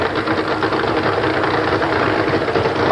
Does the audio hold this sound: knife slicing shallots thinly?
no